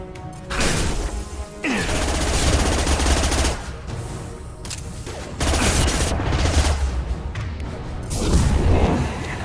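Gunfire in the sci-fi shooter Mass Effect 2: repeated loud bursts of automatic weapon fire with heavy impacts and crashes, separated by brief pauses, filling the whole stretch.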